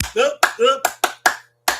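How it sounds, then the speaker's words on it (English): Loud close claps and snaps mixed with shouting voices at a moonlit Edo folklore gathering, a quick uneven run of sharp hand strikes with brief gaps. "Hey, clap for them again."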